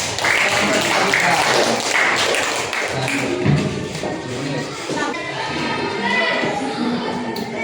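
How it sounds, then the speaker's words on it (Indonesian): A class applauds a student group after their presentation on keeping school and home clean. Many hands clap in a thick, continuous patter with scattered taps and thumps, and some voices blend in. "Ya, tepuk tangan untuk kelompok 4."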